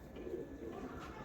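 A soft, low pigeon coo murmurs briefly and quietly under a faint background hum.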